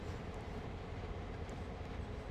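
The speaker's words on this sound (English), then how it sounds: "As we rattle through the yard at low speed." A freight train rolling slowly through a rail yard in Train Sim World 2020 on the Peninsula Route, a dense continuous rumble and rattle of wagons, loud and steady with no talk.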